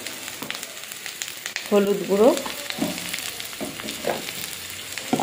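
Onion paste fries in a pan for a fish curry, a steady sizzle with stirring scrapes, while a voice or other tonal sound briefly rises over it in the middle.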